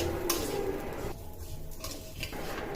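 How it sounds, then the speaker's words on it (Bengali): Rice fried in a pan with nuts and raisins for a home-cooked biryani, a spoon scraping and stirring against the metal with a soft sizzle underneath, steady and close, with no talking. "তারপর আমি চালগুলো সুন্দর করে ভেজে নিচ্ছিলাম।"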